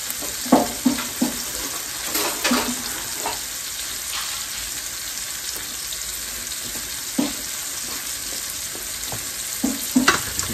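Sliced mushrooms sizzle steadily in a hot pan for smothered hamburgers, with several sharp scraping clinks of a spoon stirring them at irregular moments.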